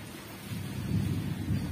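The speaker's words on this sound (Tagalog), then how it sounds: "Update lang naman to na umuulan." Steady rain with low rolling thunder outside during a downpour, a continuous wash of rainfall with deep rumbles swelling twice, moderately loud and with no voices.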